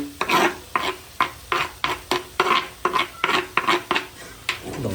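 Chopped coriander, fenugreek and spinach stirred into a capsicum dish in a pan: a steady series of about a dozen distinct scraping stirs of a spoon against the metal, close and moderately loud, with no talk.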